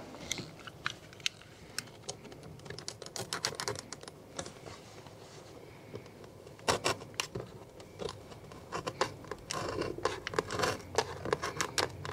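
Header rail trim on a Jaguar XK8 being recut and trimmed by hand, heard as quick crisp snipping and crunching cuts in irregular clusters, close up and moderately quiet, with no one talking.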